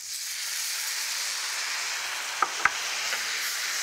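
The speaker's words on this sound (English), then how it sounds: "give that a little stir just to toast off the rice" Rice toasting in a hot pan for risotto with sausage, giving a steady soft sizzle and hiss, with two sharp clicks of a spoon stirring against the pan near the end; no talking.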